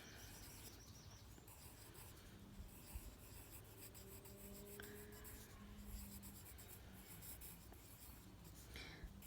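A pen scratches across paper while a primary-school sum is written out, soft continuous rubbing strokes close by and faint, with no one talking.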